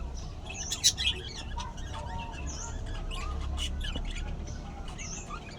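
Pet budgerigars in clay breeding pots give scattered sharp chirps and a few squawks. The calls come in quick bursts, moderately near, over a low background rumble, with no talking.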